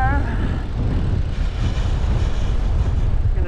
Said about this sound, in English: it's a little bit windy down here